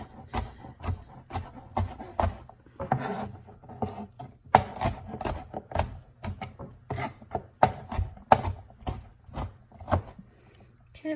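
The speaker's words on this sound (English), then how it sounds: "we're just going to give it a rough chop" A knife roughly chops peeled garlic on a board, giving a long series of irregular, close, dry knocks that come in quick clusters with brief pauses between them.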